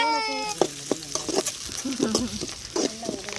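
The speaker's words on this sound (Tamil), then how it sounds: "நல்லா வதக்கிக்கோங்க. எடுத்து பாத்தீங்கன்னா நல்லா வெங்காயம் வதக்கட்டும்." Onions sautéing in oil with cinnamon and cloves for a village-style chicken gravy, a close sizzle punctuated by rhythmic scraping stir strokes, with a brief tonal whine near the start.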